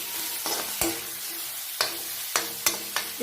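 Chopped tomatoes with a little salt being stirred in a pan over the flame, a steady sizzle broken by several sharp scrapes and knocks of the spoon against the pan.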